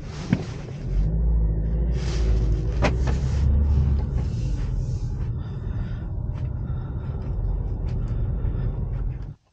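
A Mercedes A180 on a road test gives a steady low engine and road rumble from inside the cabin, with a few small clunks, holding even for several seconds before cutting off abruptly; no one speaks.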